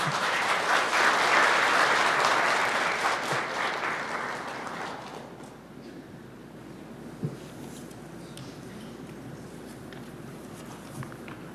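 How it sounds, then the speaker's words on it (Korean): Audience applause at a Korean Labour Day ceremony, greeting the chairman of the Korea Employers Federation onto the stage; loud sustained clapping for about five seconds, then fading into quiet room tone with a single faint knock. "여러분 뜨거운 박수 부탁드립니다"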